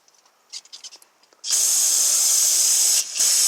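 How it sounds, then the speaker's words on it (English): Brake cleaner sprays from an aerosol can onto an old, dry-rotted serpentine belt on a 2014 Honda CR-V, a loud steady hiss lasting over a second after faint handling noises, briefly interrupted then resuming. "I'm using brake cleaner because the belt is like old anyway."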